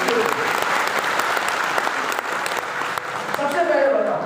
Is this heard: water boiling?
no